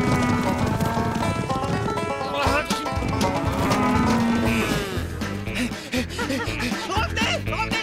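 A cartoon cow moos loudly amid busy animated-show music and effects, with hoof-like clopping and other farm-animal sounds mixed in throughout.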